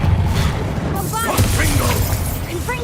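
Booming blasts and crackling bursts from the Confringo blasting curse erupt one after another in Hogwarts Legacy, loud and close, with a voice shouting the spell over the explosions.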